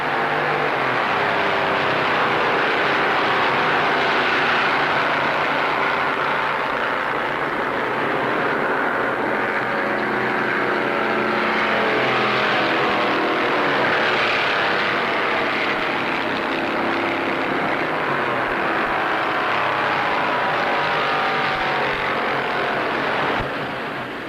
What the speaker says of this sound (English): And here come the cars